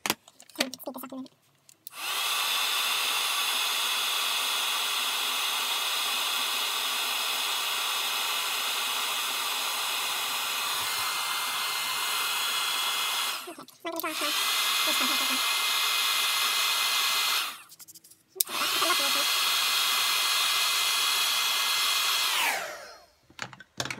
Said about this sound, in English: Now I'm going to put the heat gun on now so it will be quite noisy.